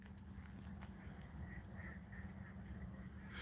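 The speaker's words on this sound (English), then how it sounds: "You can hear all the ducks out here." Ducks quacking outdoors, faint and scattered repeated calls over a steady low background rumble, with no talking.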